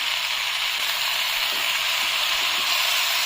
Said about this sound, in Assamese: কিছু টাইম এনেকৈ ভাজি ল'ম।